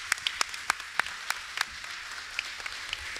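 An audience at a closing panel on contemporary care challenges claps in sparse, individual hand claps, a scattered, fairly quiet round of applause heard from nearby rather than a full ovation.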